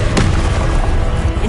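A Confringo blasting spell cast in Hogwarts Legacy, a loud, dense burst of explosive rumble with a sharp crack near the start, heavy and continuous through the short moment.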